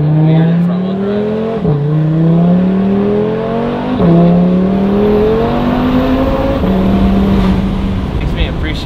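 An Audi RS3 fitted with a 034 Motorsport exhaust accelerates hard, its loud raspy engine note climbing in pitch through repeated gear shifts, each upshift dropping the tone before it rises again, heard close from inside the car.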